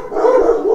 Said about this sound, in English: tonight, the dogs are going to bark at shit. Listen to it.